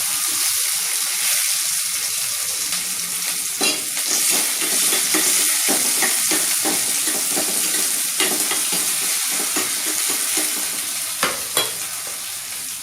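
Chopped onions sizzle and fry steadily in a pan after fennel seeds are tempered, with a spoon stirring and scraping now and then, a continuous close hiss throughout while cooking a banana flower kootu.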